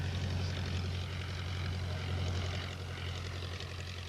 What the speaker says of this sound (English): I think I can hear one of those planes now.